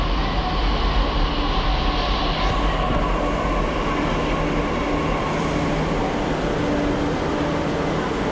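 A metro train in India runs with a constant loud rumble and rolling rail noise, heard close and unbroken from start to finish.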